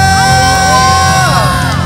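A worship congregation claps and cheers for Jesus during a church service, a loud sustained roar of whoops and shouts over steady instrumental music and a held organ-like tone.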